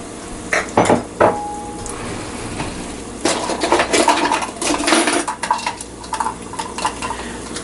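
Homemade chimichangitas fry in a pan while utensils clink and scrape against cookware, producing sharp, irregular clatters over a steady background sizzle.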